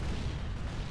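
Cannon fire from the player's ship in the video game Caribbean, a dense, rumbling low boom filling a brief moment with no gaps.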